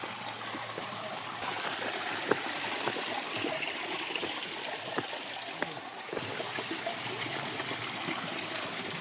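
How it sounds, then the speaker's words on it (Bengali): A steady, close rush of water pouring and splashing down a small roadside waterfall at Alutila, Khagrachari, with a few faint clicks and knocks on top. "দেখতে পাচ্ছেন পানি নামতেছে সুন্দর করে"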